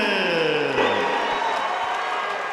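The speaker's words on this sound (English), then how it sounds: "Great crowd reaction there for Goodman." Arena crowd cheering and whooping at a regional MMA event as fighter Colin Goodman of Remedy BJJ, from Milton, Florida, is introduced for the ring; a loud, dense, steady roar holds for the whole stretch with no pause.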